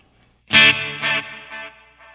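A strummed electric guitar chord through a Flamma FS03 tape delay pedal with tweak two turned up, ringing out loudly, then repeating in fading, wavering echoes with a warbling pitch wobble.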